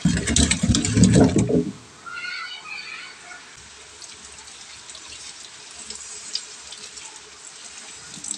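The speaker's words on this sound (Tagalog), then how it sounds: "Ibubuhos lang natin ito sa katabo." Boiled bananas and water poured out of a pot: a loud gushing splash lasting under two seconds, then a quiet background hiss of water and a distant hum.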